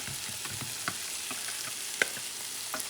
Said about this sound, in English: Mix it once again.